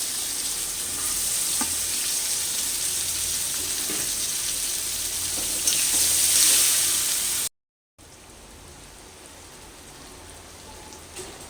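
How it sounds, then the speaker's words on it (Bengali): Onions sizzle in leftover oil from frying rohu fish, a dense, rain-like crackle heard close and steady, swelling briefly before a short gap and then continuing more softly. "ওই তেলে আমার পেঁয়াজগুলো ভাজা হয়ে যাবে পেঁয়াজগুলো দিয়ে দিচ্ছি এবার"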